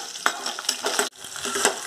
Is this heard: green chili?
yes